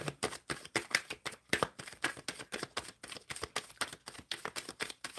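Tarot cards being shuffled in a rapid, steady riffling rhythm, a dense run of crisp flicks and slaps close up with no talk.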